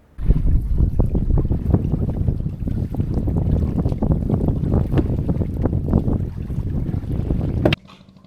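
A fishing boat out on the water at night during hilsa fishing, its engine droning loud and steady close by over wind buffeting the microphone, until the noise cuts off abruptly near the end.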